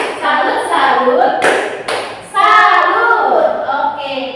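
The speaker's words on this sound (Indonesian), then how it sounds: "Sekarang kita tepuk salut dulu untuk Dep Baby." A school class claps a rhythmic salute clap, bursts of many hands at once mixed with children's voices chanting along, loud and close in a classroom.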